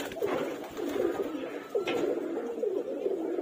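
Pigeons flocking together, with a steady run of soft cooing and bird calls close by and occasional brief fluttery bursts. No voices.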